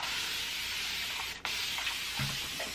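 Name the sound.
spraying water mist on face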